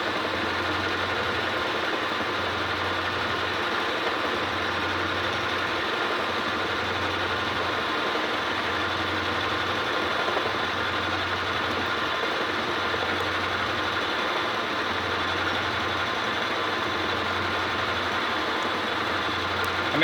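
A 1948 Logan 200 metal lathe running steadily while cutting, with a continuous mechanical drone and a faint rhythmic low pulsing under it as the tool chatters against the workpiece, close and sustained with no talk.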